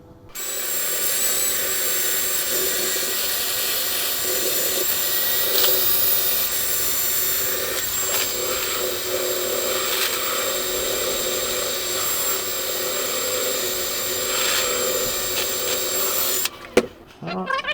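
A power sander sanding wood for a cheese platter whines continuously and loudly at close range, a steady abrasive drone that stops abruptly near the end.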